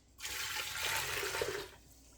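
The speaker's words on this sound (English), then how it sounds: "Add about 1 liter of water" About a liter of water gushes steadily into a pressure cooker for about a second and a half, a broad splashing rush that starts abruptly and tapers off.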